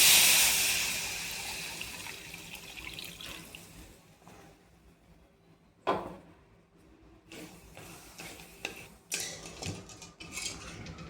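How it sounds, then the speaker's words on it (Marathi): Water from a mixer jar poured into a pan of fried masala, an opening rush of splashing and sizzling that fades, followed by scattered clinks and knocks of utensils against the pan nearby. "मी याच्यातच पाणी टाकलं आणि आता हे सगळं टाकून देऊयात."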